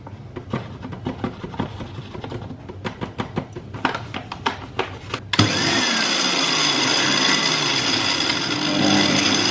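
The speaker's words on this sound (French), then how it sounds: "Je lance le robot." A kitchen food processor mixing flour for homemade pizza dough starts after a few seconds of clatter and handling noises, then whirs loudly and steadily to the end with no talking.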